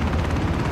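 Helicopter in the Ring of Elysium video game, a dense, loud rotor and engine roar heard close up as a steady rumble for under a second.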